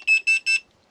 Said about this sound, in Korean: 일산화탄소 가스 누설 경보기를 네, 꽂아서 쓰고 있습니다